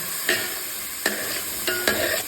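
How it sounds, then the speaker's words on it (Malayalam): Crushed shallots frying in hot coconut oil, a steady sizzle with a few sharper bursts as they are stirred, close and continuous with no talking. "നമ്മൾ ചതച്ച ഉള്ളി ആഡ് ചെയ്ത് കൊടുക്കുകയാണ്."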